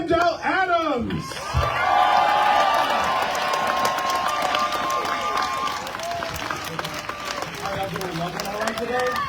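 Crowd at an outdoor "No Kings" protest in Midland breaks into sustained applause and cheering, a loud, dense wash of claps and shouts that swells after a brief voice and holds steady, with voices mixed in.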